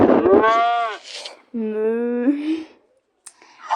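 A cartoon cow in the Avatar World video game gives two long, loud moos in quick succession, followed by a brief click and a faint trailing sound.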